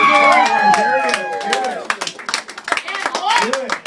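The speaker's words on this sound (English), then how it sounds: "Give yourself a round of applause." An audience bursts into clapping and cheering at a comedy show, dense at first and then thinning into scattered claps, with voices calling out over it.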